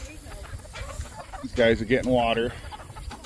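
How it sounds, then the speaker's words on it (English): Freshly fed chickens, a mixed flock in a farmyard frenzy around the feed bowls, cluck in brief close bursts while someone talks over them. "Amanda has fed them, so they are in a frenzy"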